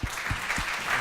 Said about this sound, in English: maybe a round of applause for our peer review panel